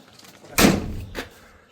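Door of a fire truck opening with an attached fold-out step, a single loud close clunk followed by a softer knock and a fading rattle.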